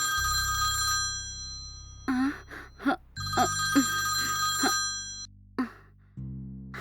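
A mobile phone rings with an incoming call, its electronic ringtone repeating in steady bursts, fairly close and clear, while brief breaths and murmurs sit faintly underneath.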